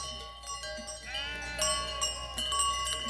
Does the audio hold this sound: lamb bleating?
yes